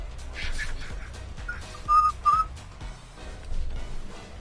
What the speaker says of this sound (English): Are you gonna do the whistling thing again?